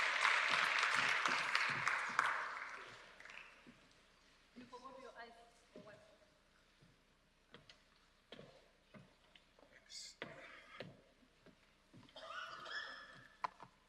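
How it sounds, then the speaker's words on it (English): A hall audience at a North West climate change provincial workshop claps for a speaker, a burst of applause that fades within a few seconds, followed by sparse clicks and a voice talking. "Let's give him a round of applause as he's sharing with us."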